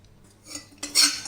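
A few close metallic scrapes and clinks of a spoon in a pan as pistachios are stirred and roasted for a sugarless dry fruit burfi, quiet at first, then a brighter scrape near the end.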